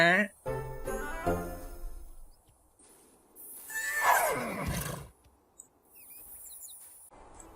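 A unicorn horse in The Sims 3 neighs in a rising, quivering whinny near the middle, with short chimes and tinkling game effects around it and speech-like sounds early on.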